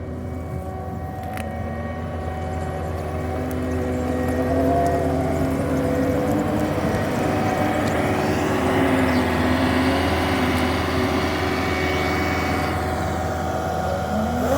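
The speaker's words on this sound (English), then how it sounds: "That's the reverser fan cleaning out the radiator. It does it periodically." On a farm field under the Alaskan midnight sun, a tractor's reversing fan blows out the radiator, a steady loud engine drone with a whooshing fan tone that swells and shifts over about fifteen seconds.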